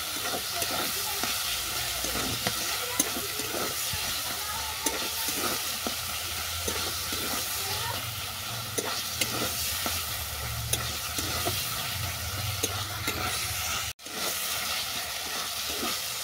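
Elephant-foot yam (ol) greens with turmeric and sugar stir-fried in a pan, giving a steady close sizzle with constant scraping and stirring throughout, plus one brief dropout near the end.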